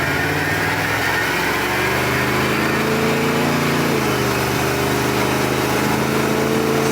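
Car with a Turbo 400 automatic transmission with a slipping, sludgy second gear, accelerating through first, second and third; a loud continuous engine drone rises in pitch, drops at a shift, and climbs again.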